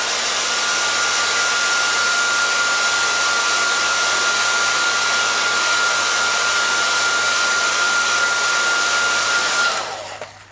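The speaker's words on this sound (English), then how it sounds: "Just use a heat gun." A heat gun blows hot air steadily to dry Windex under a motocross number graphic, a loud, continuous whooshing whine that runs unbroken for about ten seconds before shutting off and spinning down.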